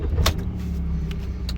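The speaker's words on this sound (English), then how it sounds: "Right, so let's start it up." 2017 Ford Transit 2.0 TDCI Luton van diesel engine cranking over and catching into a low, steady idle, heard close with a brief sharp whir at the start.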